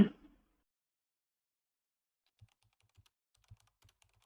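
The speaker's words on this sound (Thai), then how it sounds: "และพิมพ์ป้อนข้อมูลที่เราอยากจะให้ระบบนะคะ" Someone types a prompt on a phone's on-screen keyboard: after a short sound at the start and a quiet pause, a handful of soft, faint, irregular taps follow close by.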